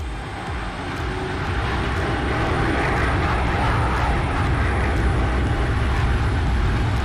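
Steady, loud engine roar and rumble of a Boeing 757 freighter landing in the flight simulator X-Plane 11, continuous and unbroken with no talk.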